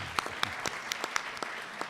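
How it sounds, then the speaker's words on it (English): Audience applause in a formal setting, a short spell of scattered, fairly faint claps with distinct individual hand strikes, heard from a distance. "We applaud you, Mike."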